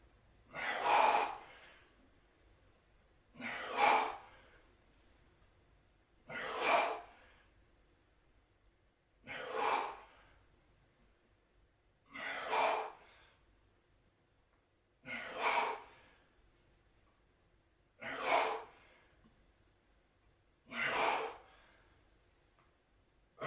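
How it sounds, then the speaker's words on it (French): Hard, forceful exhalations during an exercise workout, eight evenly spaced breaths out roughly every three seconds, close and fairly loud with quiet gaps between them and no talking. "Soufflez, soufflez."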